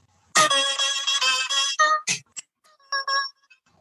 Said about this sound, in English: I had on my phone this for my ringtone